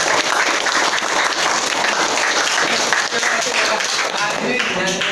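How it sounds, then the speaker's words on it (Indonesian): Sustained applause from an audience at an individual coaching session after a long song, dense and steady clapping filling the whole stretch with no pauses. "Oke, tepuk tangan dulu."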